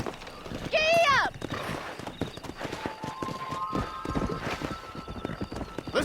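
Horse hooves clip-clopping in the video game Red Dead Redemption 2 at a ranch, a brief loud whinny near the start followed by steady rhythmic hoofbeats at a gallop, with a voice talking over it.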